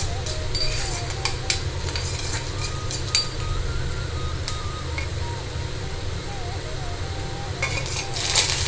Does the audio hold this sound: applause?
no